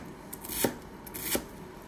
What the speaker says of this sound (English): I want to cut it really small